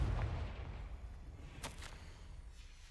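A Confringo fire spell bursts in Hogwarts Legacy with a deep rumbling boom at the start that fades under a whooshing tail, followed by a sharp crackling flare partway through.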